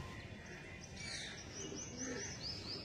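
Pigeons at a pigeon sale coo softly under a steady background hiss, with a few faint chirps near the end and no voices.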